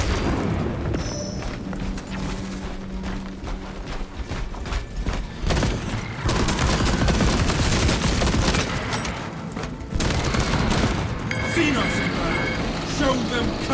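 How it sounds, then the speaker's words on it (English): Frag grenade blasts and dense gunfire in the video game Space Marine 2, loud bursts of shots and booms churning continuously, with game voices and someone talking over the combat. "Throwing frag grenade."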